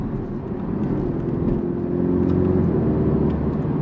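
A Porsche 718 Cayman's 2-litre four-cylinder mid-engine pulls hard in sport mode, a loud, close, continuous droning growl that builds steadily for a few seconds with no talk over it.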